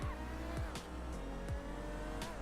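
A race car in GTA 5 Online driving flat out, a loud close engine roar with repeated sharp gear-shift drops and bursts of tyre squeal, no talking.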